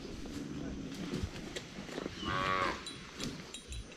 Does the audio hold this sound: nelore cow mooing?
yes